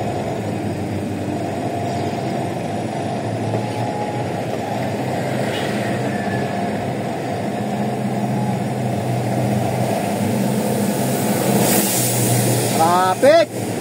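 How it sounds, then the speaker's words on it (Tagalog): Steady road traffic on P. Aquino Avenue in Barangay Tonsuya, a continuous mid-pitched rumble of passing cars and engines, with a brief squeal or horn near the end. "Traffic!"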